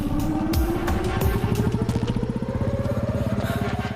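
A motorcycle engine runs close by with a steady, throbbing idle and a rising pitch as it revs, loud throughout with no talk over it.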